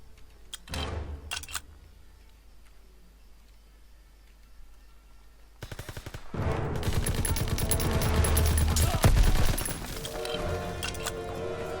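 Gunfire in the World War II shooter Call of Duty WWII: a couple of short bursts early, then after a quiet stretch a sustained loud barrage of rapid automatic fire and impacts, with brief speech mixed in.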